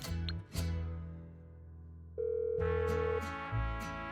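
A phone rings out while calling the mechanic in the video game GTA Online, with sustained electronic ringing tones that shift pitch partway through, loud and clear with no talk over it.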